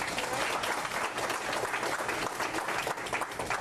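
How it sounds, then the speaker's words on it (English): A seminar crowd gives a sustained round of applause, dense and even clapping filling the room throughout at moderate volume with no break. "Give him a round of applause."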